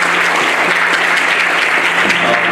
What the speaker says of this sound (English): If you're going to clap, let's do it.